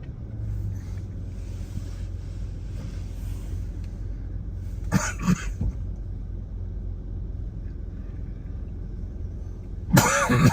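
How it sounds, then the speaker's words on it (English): A person coughs twice, harshly and close, with a lingering cough inside a car. A steady low engine rumble runs underneath, and the coughs come several seconds apart. "I wish I could get rid of this cough."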